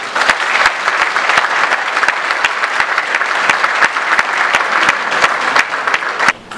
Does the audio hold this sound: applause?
yes